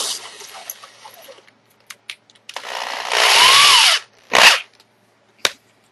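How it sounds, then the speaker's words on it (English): Power drill fitted with a 1/4 inch bit boring a hole for a CNC linear slide bearing, heard as several loud close bursts of whining motor, one long steady run followed by shorter spurts, with no talking. "I'm going to want to use a 1/4 inch drill bit"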